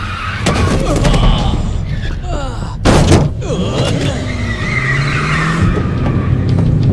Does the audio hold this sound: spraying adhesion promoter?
no